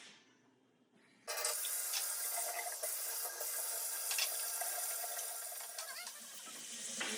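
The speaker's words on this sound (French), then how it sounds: "Et on passe au sucre. On va mettre un petit peu d'eau." Tap water running steadily and fairly loudly into a kitchen container to wet sugar, starting abruptly after a quiet moment and continuing with a bright, splashy hiss.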